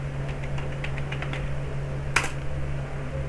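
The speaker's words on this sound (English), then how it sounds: "So I'm typing my root password." Fingers type a short run of keystrokes on a computer keyboard, light quick clicks followed by a single sharper tap, near and quiet over a steady background hum.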